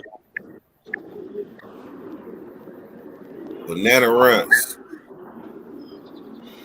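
A single throaty pigeon coo from a coop rises briefly above low background chatter and people talking nearby.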